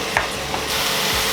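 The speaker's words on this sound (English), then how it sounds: "Add your onion and your mushrooms." Onion and mushrooms dropped into a pan of hot olive oil on medium heat sizzle loudly and steadily at close range, with a brief clatter as they land, and no voices.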